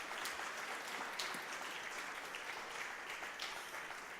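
Faint, distant applause fills a seminar hall on financial education, a soft continuous patter of many hands with no break.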